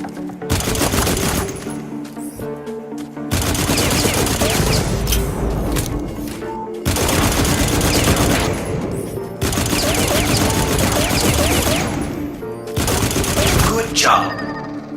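Heavy assault rifle in the MMO shooter Firefall fires in long sustained bursts separated by brief pauses, loud, dense and close, with booming impacts mixed in.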